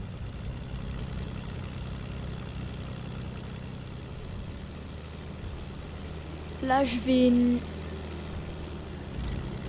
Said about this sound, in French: c'est là où je suis en train de tourner avec l'avion